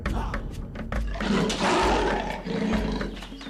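A lion in an animated Jataka tale gives loud, rumbling roars that swell and fade in two or three surges, close up with no talk.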